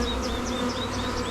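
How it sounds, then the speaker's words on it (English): Honeybees buzzing around a newly installed hive on a mountain farm, a dense, steady swarm hum filling the clip with individual bees droning past close by. "lots of bees."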